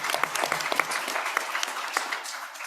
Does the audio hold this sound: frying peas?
no